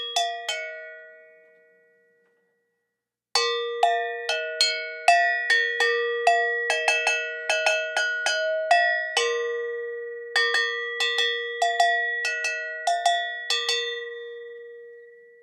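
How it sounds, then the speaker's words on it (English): A Pete Engelhardt triple agogo bell rings out with a single struck tone that decays, then after a pause a lively rhythmic pattern of bright, ringing metallic strikes across its pitches, close and clear with no talk. "This is also a Pete Engelhardt creation, and it's triple agogo."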